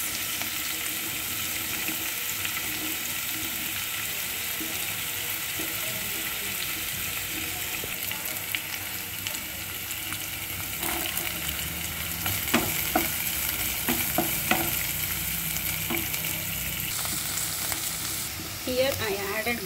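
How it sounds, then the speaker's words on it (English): Carrot, onion, beans and paneer sizzle and fry steadily in a pan, a continuous loud hiss with occasional stirring clatter toward the end. "Now I am going to add carrot, onion, beans one by one."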